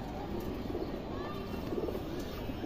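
A silver female pigeon coos softly in a low, rolling murmur, steady and close, over a busy background of other birds and faint room noise.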